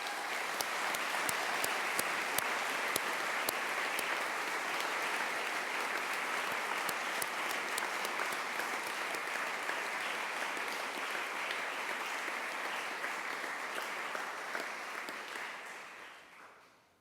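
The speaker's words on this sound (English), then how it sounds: "let's give them a round of applause" Sustained audience applause at an opening convocation, a large crowd clapping evenly and continuously for a long stretch before tapering off at the very end.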